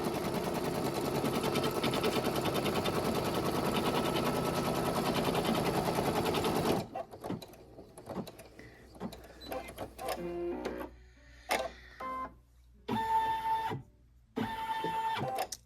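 Computerized embroidery machine stitching a pumpkin patch coaster design, first a steady loud rapid mechanical whirr, then stop-start bursts of fast needle chatter separated by short pauses and clicks.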